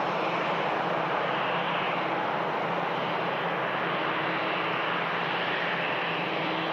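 An EasyJet airliner arriving at Manchester Airport from Amsterdam gives a steady, loud broadband engine roar that holds evenly throughout, with no pauses and no voices.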